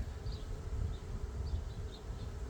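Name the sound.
honey bees buzzing at hive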